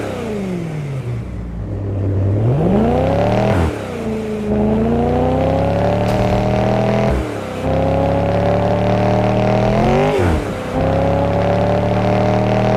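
A BMW Cabrio in the Car Parking Multiplayer game revs repeatedly, each burst climbing in pitch, holding a loud droning note, then dropping off before the next, with four or five cycles in close succession and no talk.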